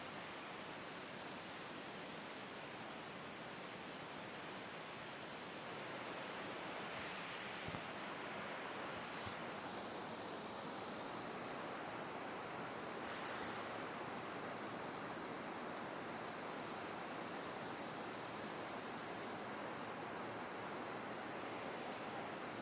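A river rushes on below Laughing Whitefish Falls, a steady broadband roar of flowing water that holds at an even level throughout with no voices.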